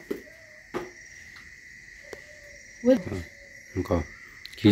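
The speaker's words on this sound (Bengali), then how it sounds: "সত্যি ঝিঝি পোকার ডাক।" Crickets chirp at night in a village with a steady, high, continuous trill. Low voices and faint thumps break in briefly near the end.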